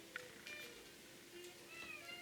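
A cat meows several times in short, high, wavering calls over a faint, steady background hum, close and fairly quiet.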